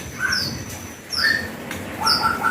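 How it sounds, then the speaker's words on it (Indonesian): Young white-rumped shama fledglings give thin, high chirping calls, several short squeaky notes spaced out over a quiet background. "perawatan trotol murai batu"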